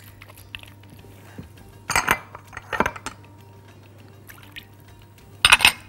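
A utensil clinks and scrapes against a bowl in a few short bursts while tahini is stirred with lemon and salted fish (fesikh), close by, with quiet pauses between the strokes.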